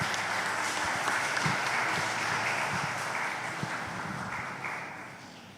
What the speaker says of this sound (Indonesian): Sekali lagi kita berikan tepuk tangannya.